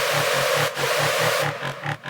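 Harsh dubstep screech synth patch built in the Synth1 plugin, played dry without a bright high-shelf EQ boost, sustaining loudly with a pulsing, rhythmic low wobble and gritty buzzing midrange throughout.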